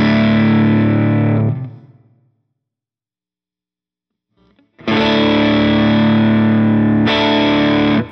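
An electric guitar runs through NUX Masamune booster and Kompressor pedals, giving loud, distorted, compressed chords. One chord rings and decays, silence follows, then another heavy chord sustains and is re-struck.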